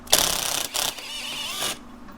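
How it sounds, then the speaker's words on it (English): A socket wrench clicks in quick ratcheting bursts while working a linkage bolt on a 2003 Polaris Sportsman 700 ATV, two short close-up runs of sharp metallic clicks with a brief pause between. "grab a 5/8 wrench and you can grab a hold of the linkage bit here and then 9/16 socket and I guess have at it"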